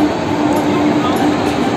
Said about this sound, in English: So now the train is moving.